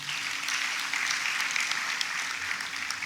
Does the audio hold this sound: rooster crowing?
no